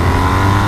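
A BMW R1250RS motorcycle's boxer engine pulls hard while accelerating past a car, a steady loud, close drone with a strong low growl and no speech over it.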